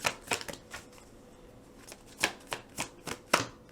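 Tarot cards are shuffled and drawn, producing quick bursts of close riffling and flicking with short pauses between them.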